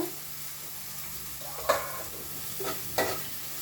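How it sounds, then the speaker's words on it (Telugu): Onions fry in a pan for a traditional Nellore fish curry under a soft, steady sizzle, with a few distinct spoon-stirring scrapes near the end, close but fairly quiet and without speech. "ఉల్లిపాయలని బాగా కలపండి"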